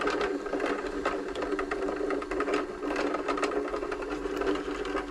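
A Bernina B325 sewing machine winds its bobbin during a service, a continuous close mechanical whir with fast rhythmic ticking that holds steady throughout, with no voices.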